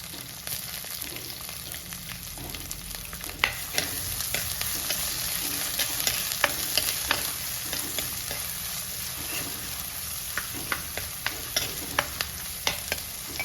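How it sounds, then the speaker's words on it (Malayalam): Chopped shallots added to garlic frying in oil in a pan for Kerala-style fish curry, with a steady close sizzle and frequent sharp spatula taps and scrapes as the pan is stirred. "അതിലേക്ക് ഒരു പത്ത് ചുവന്നുള്ളി അരിഞ്ഞത് ചേർത്ത് കൊടുക്കാം"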